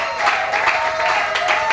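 An audience applauding at a religious conference led by Prophet Moïse, with dense, steady clapping from a crowd heard close and continuous through a short burst.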